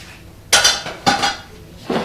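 Pecans are tossed with chocolate chips in a bowl, making three separate clattering, clinking bursts about half a second apart. Each burst is close and bright, with no talking over it.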